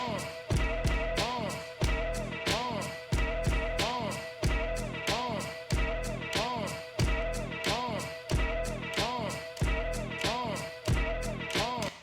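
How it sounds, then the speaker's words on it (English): Beat juggling on a DJ controller, with a kick-driven beat looping in steady repeated bars and a snare hit added into each pattern; punchy and continuous, with no voices. "we're just going to keep repeating the 1, but we're going to add the snare in."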